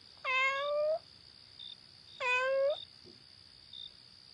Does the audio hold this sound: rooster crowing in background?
no